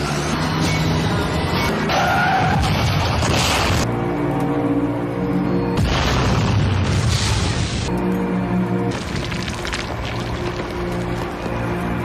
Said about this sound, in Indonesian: Mobil pun kemudian meledak dalam kobaran api.